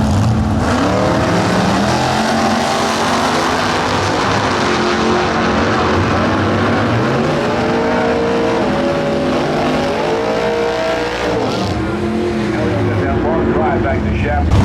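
Nostalgia drag racing at Famoso as a 1970 Camaro and a Mopar launch off the line, loud sustained engine roar with rising revs filling the whole stretch, an announcer talking over it.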